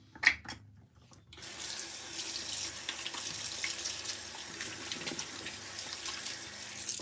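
A bathroom tap runs steadily into a sink as shaving product is rinsed off, a close, constant splashing hiss that begins after a brief knock and carries on alone to the end.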